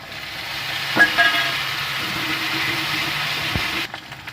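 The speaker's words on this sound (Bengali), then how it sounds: "এখানে আমি আদা আর রসুন বাটা দিয়ে দিলাম ভালো করে কষে নেব" Ginger and garlic paste sizzles steadily in a hot pan while being sautéed for an egg curry with sour yogurt, with a few sharp stirring knocks and scrapes over the continuous frying hiss.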